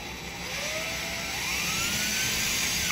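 A power drill whines steadily as it bores holes into drywall for mirror brackets, a continuous high-pitched motor tone with a slowly rising pitch, fairly quiet and close.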